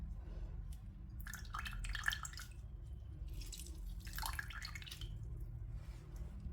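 Water trickling and dripping into a pan while sugar syrup is being made, faint drips and two short splashing pours over a low background hum.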